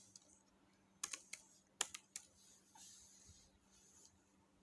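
Soft, quiet keystrokes on a computer keyboard while entering commands in a Linux terminal, sparse clicks in small clusters with short pauses between them.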